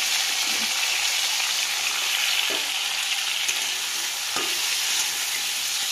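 Tomatoes frying in hot oil tempered with kalonji seeds, a dense steady sizzle with a few soft stirring scrapes, close and fairly loud, with no talking.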